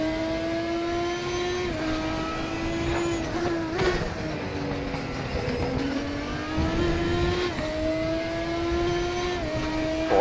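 Race car engine in the RaceRoom Racing Experience video game holding a steady high drone, with gear shifts dropping and climbing the pitch several times as the car laps a track; continuous and close, no talk.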